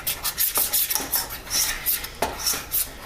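A regular spoon scrapes and stirs a golden roux in a pan, giving a steady run of soft metallic rubs and clinks against the pan, fairly close and with no talking.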